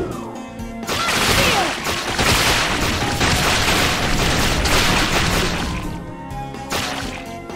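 Bloodsteel attack in Bloodstained: Ritual of the Night, a loud, dense burst of crashing, booming impacts lasting several seconds before tapering off, with no talk.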